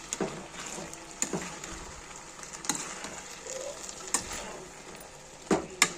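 Eggplant curry sizzles softly in a pan while salt is stirred in, with a faint steady frying hiss broken by occasional sharp scrapes and clicks of the spoon against the pan.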